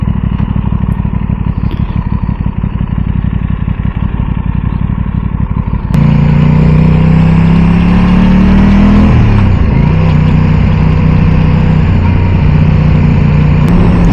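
A motorcycle ridden on a windy day: first a low rumble buffeted by wind noise, then, about halfway through, the engine roars up close and loud, revving and accelerating through rising pitch changes.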